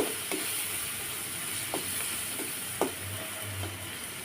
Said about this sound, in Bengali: মশলাটার সঙ্গে ডিমটাকে এভাবে কষিয়ে নিচ্ছি